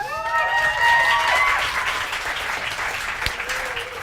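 Audience applause at a live comedy show, steady clapping throughout with a few brief whoops and a voice near the start.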